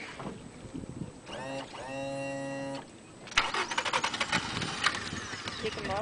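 A big boat engine cranks with a rising whine, then catches and rumbles on out in the open, with wind buffeting the microphone and people talking nearby.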